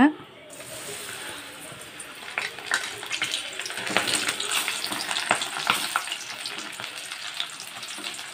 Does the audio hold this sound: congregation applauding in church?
no